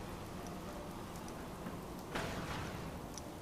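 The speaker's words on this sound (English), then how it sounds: "Had enough of this rain, so we'll flip our switch here and fix it." Rain falls in the video game Fallout 4 as a soft continuous patter with faint scattered drips, gently swelling partway through, low in level and with no voices.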